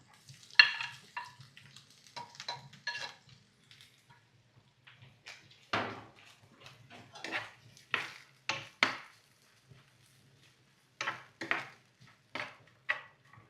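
Grated coconut frying in ghee in a pan with nuts: soft sizzling under repeated scraping and stirring strokes of a spoon against the pan, close and fairly quiet, coming in irregular bursts.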